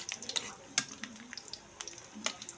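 Chopped garlic fries in a hot pan for chicken tinola, giving a soft, crackling sizzle with scattered sharp pops and spatula taps, fairly quiet and close.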